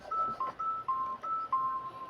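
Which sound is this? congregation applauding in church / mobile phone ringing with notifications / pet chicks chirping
mobile phone ringing with notifications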